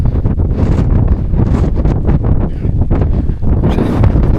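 Strong wind buffets the microphone on a hilltop, a loud, continuous rushing roar with gusty surges and no break.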